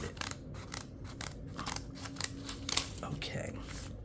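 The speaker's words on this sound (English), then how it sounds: "We probably can just use our scissors." Scissors snip repeatedly through craft material, making a quick series of sharp clipping cuts close by, with faint talk in the background.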